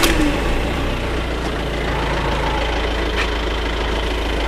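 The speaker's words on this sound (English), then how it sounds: "As you can hear, the engine started first time. And if you can hear, she's ticking over as sweet as a nut." A diesel car engine running on a 30% vegetable oil mix idles steadily right after starting, a close, even low rumble with a faint rhythmic tick and no voices.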